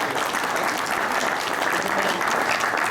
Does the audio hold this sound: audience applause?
yes